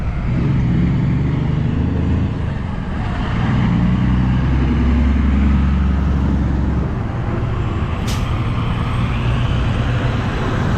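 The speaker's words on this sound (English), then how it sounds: "Yeah, that's how a truck's supposed to sound." A truck passes along Rue Notre-Dame East in Montreal's Hochelaga borough amid city traffic, its heavy engine rumble swelling loud and close, then easing off under steady roadway noise with a brief squeal near the end.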